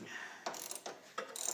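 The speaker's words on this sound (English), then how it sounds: "I'm just tightening down the bracket bolt for the torsion bar bushing." Quick clicking ratchet strokes on the bracket bolt of a torsion bar bushing on a 2000 Mercedes W210 E320 4Matic, three or four short bursts close by, fairly quiet, with no talk.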